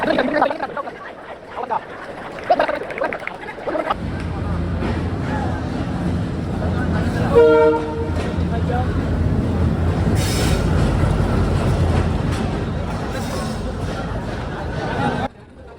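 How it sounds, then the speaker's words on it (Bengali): A train pulls into Jessore railway station, a loud rumble of wheels and railcars with a brief squeal, under crowd chatter on the platform. "ওই যে ট্রেন আসছে।"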